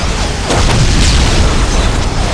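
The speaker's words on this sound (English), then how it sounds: "Incoming enemy fire." Incoming enemy fire in the PC strategy game Dawn of War Winter Assault, heavy booming explosions rolling together into a dense, loud, continuous rumble with sharper bursts at the start.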